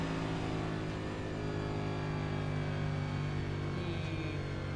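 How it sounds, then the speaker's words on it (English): A race car engine keeps running during a 200 race at Michigan, a steady, continuous mid-pitched drone with a constant loudness and no talk over it. "No, the engine's still running."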